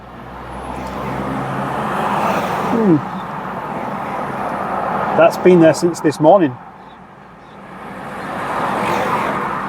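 Road traffic hums steadily past at a roadside, a continuous moderate wash of car noise with a vehicle passing, while someone talks over it and a few short tonal chirps cut through.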